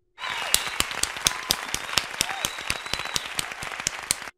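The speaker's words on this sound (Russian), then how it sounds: "Давайте ему похлопаем" A crowd applauds a mayor in a Minecraft game, steady clapping with sharp individual claps cutting through for several seconds, fairly loud and close, with a faint tonal game sound underneath.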